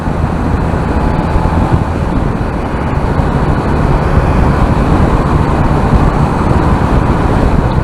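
A motorcycle cruises along a road at speed in sixth gear, a steady, loud engine and wind roar holding constant from start to finish with no pauses.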